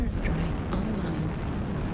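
Airstrike explosions in the MechWarrior video game at dusk or dawn, a continuous heavy rumbling blast roar filling the whole moment with a few sharper bursts near the start.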